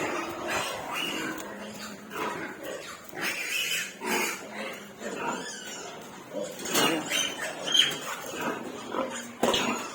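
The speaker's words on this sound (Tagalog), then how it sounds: "May naipit na baboy, guys." Squeals and grunts of a pig caught or stuck rise in short, irregular bursts over a noisy scene, with other animal sounds and clatter mixed in.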